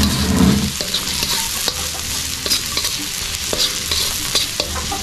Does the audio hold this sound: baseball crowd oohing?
no